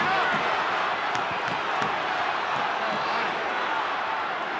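A stadium crowd roars during the 2018 NRL rugby league match between the Newcastle Knights and St George Illawarra Dragons at McDonald Jones Stadium. The dense crowd noise is steady and continuous, with a commentator talking over it.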